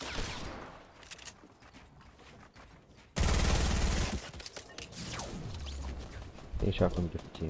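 Rapid gunshots in a squad-based shooter video game, a loud close burst of automatic fire in the middle amid scattered shots and game noise, with people talking throughout.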